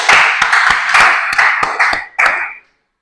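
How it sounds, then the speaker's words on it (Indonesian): A class in a classroom gives a round of applause: a dense burst of many hands clapping for about two and a half seconds, close and loud, then cutting off sharply into silence. "tepuk tangan."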